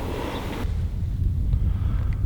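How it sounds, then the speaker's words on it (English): Wind blows outdoors during a late-season elk hunt, a steady low rumble buffeting the microphone, loud at first and then continuing as a broad gusty roar. "I feel that wind in my back."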